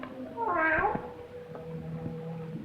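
A cat gives a single loud, wavering meow near the start in an old 1942 film setting among graves, followed by low background sound and faint voices.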